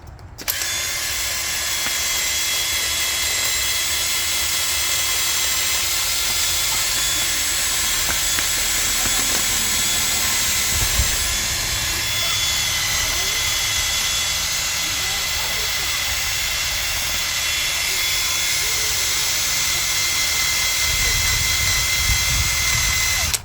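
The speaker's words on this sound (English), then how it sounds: "Now I just have a regular wire brush." A wire brush scrubs surface rust off a wheel rim, producing a loud, harsh, continuous hissing whir that stays nearly constant for over twenty seconds at close range.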